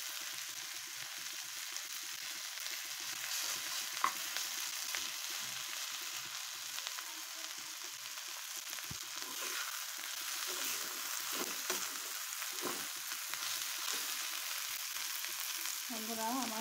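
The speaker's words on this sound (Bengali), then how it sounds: "শাকটা এই মুহূর্তে সুন্দর করে ভাজতে হয়" Leafy greens (shak) fry and get stirred in a pan, giving a steady, close sizzle that runs unbroken for the whole stretch with no talking.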